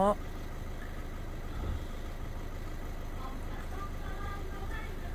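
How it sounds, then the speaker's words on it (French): A warmed-up SEAT Ibiza car engine idles with a low, steady rumble, fairly quiet and unchanging from start to finish. "Moteur est chaud, en condition."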